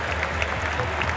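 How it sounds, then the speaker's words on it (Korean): Steady, dense applause from a standing crowd of fans at a Barcelona football stadium, a continuous wash of clapping with no voices standing out. "팬들이 일어나서 다 같이 박수를 쳐줬습니다."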